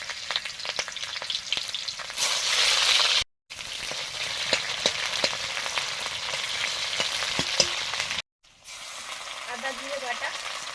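Chopped onion frying in hot oil with bay leaf, dried chilli and five-spice, a steady close sizzle with stirring scrapes, broken by two brief silent gaps.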